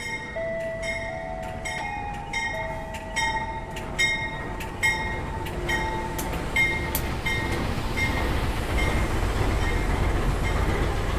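A passing train rolls past with rhythmic clattering of wheels on track and a squealing tone, the rumble building and growing louder toward the end, heard by a passenger aboard the Kutojaya Selatan train in Indonesia.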